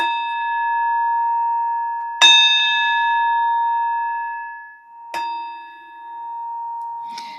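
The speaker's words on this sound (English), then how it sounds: "You got me using the bell early today." A bell is struck three times, bright and loud up close, each clear metallic strike ringing out in a long, slowly fading tone that overlaps the next, with no talk.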